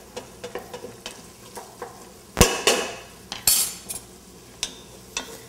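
Risotto rice and onion are stirred in a hot pan, a spoon clinking and scraping in irregular taps against the metal, with a few sharper knocks over a low sizzle.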